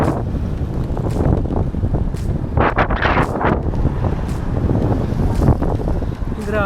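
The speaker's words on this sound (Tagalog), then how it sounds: "Galit ba sa akin ang hangin ngayon? Isang oras na akong lumalaban sa headwind." Strong headwind buffeting a cyclist riding a Ferrino Monstro gravel bike, a loud, constant low roar of wind rushing past the microphone with gusting swells and a voice speaking briefly midway.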